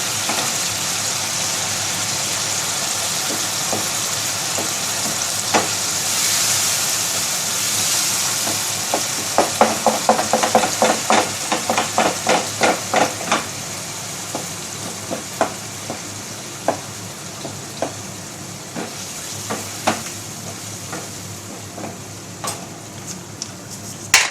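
Minced meat keema fries in a pan for a karela dish, a steady sizzling hiss with a run of sharp spoon scrapes and clinks against the pan, loud and close with no talking.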